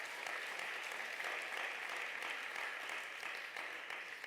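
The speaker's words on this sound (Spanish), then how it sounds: "Dan un aplauso al Rey" Sustained, dense applause from a church congregation honoring the King during a sermon, steady and full throughout with a faint voice barely emerging underneath.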